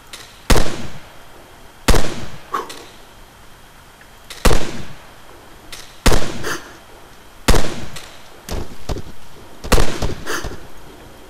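Video game gunfire: sharp single shots, loud and close, fire at fairly even intervals of about a second and a half, with some shots quickly doubled, over a low background hum.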